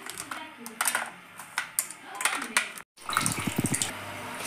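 Crab pieces are washed in water for a village-style crab curry, giving irregular splashing and sloshing with short clatters and handling noises, close and moderately loud, stopping for a brief silent gap before more busy splashing.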